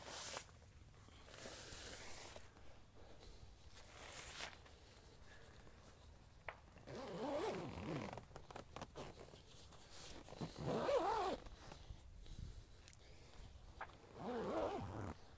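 Zipper sliding along the door of a Sierra Designs Vapor Light 2 UL ultralight tent as it is closed, several rasping pulls in bursts, fairly close and moderately quiet, with no talking.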